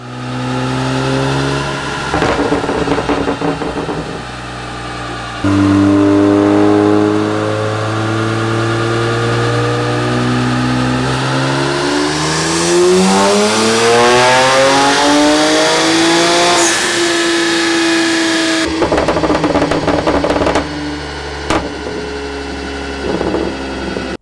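A tuned BMW 335i making full-throttle dyno pulls, the engine note climbing steadily through the revs in long loud sweeps, dropping back between runs, with no talking over it.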